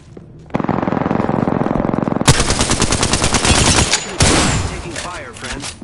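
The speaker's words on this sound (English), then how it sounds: "Taking fire" Automatic weapon fire in the video game Apex Legends, loud rapid bursts of machine-gun shots from more than one gun in quick succession, dense and continuous across the whole stretch.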